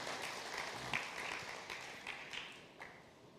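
Applause from a church congregation during a worship service, a steady broadband patter of many hands at moderate distance, fairly quiet overall with a few louder bursts, no talk over it.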